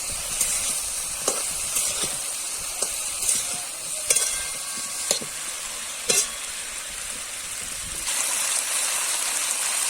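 Cauliflower and potato pieces fry together in a pan, a steady, fairly loud sizzle and crackle broken by a few sharp spits and pops, swelling slightly toward the end; no one speaks.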